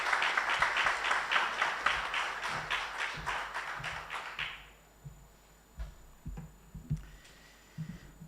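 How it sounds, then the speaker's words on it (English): Audience applause for Tanzania's Minister of Information, Communication and Technology at a US-Tanzania tech event: steady, dense clapping for about four seconds that fades out, followed by scattered thuds and faint room noise. "Ladies and gentlemen, with a massive round of applause, I'd like to now bring up Honorable Jerry Slaa"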